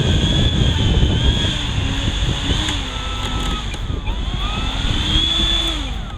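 An electric RC model airplane taxis back along the ground, its motor a loud, steady high whine with slight pitch wavering, close by and continuous.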